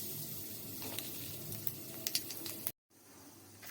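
Black cumin seeds sizzle and crackle in hot white oil in a wok, a steady close frying hiss with scattered pops, cut off briefly near the end before the quieter sizzle resumes.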